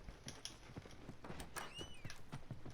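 Horse hooves clip-clopping in The Last of Us video game, a steady run of moderately loud hoof thuds over a busy game soundscape with a few brighter clanks.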